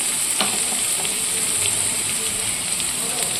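Potatoes, tomatoes and ginger with spices sizzle in a pan, a steady close hiss like light rain with occasional stirring clicks.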